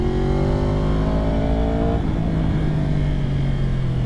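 A tuned 2022 Yamaha R1 sport bike with a flashed ECU revs hard and loud up close, its engine note climbing steadily then shifting and pulling on through a continuous roar without any talk.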